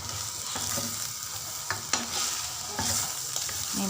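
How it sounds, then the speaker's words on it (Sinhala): Jackfruit sambol mixture being stirred in a pan, a soft sizzle under repeated scraping strokes and light clinks of a spoon against the pan. "මේ විදිහට හොඳට කලවම් කරගන්න."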